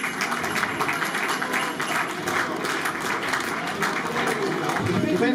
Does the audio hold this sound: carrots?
no